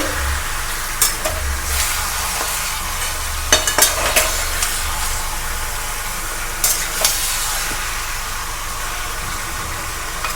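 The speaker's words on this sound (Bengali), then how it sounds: "চিকেনটা ভাজার সময় কিন্তু আমরা একটু বেশি তেল দিয়েই ভাজবো, তাতে চিকেনটাও ভালো করে ভাজা হবে" Chicken fries in plenty of oil with a steady, loud sizzle, punctuated by occasional scraping clinks of a utensil stirring the pan close by.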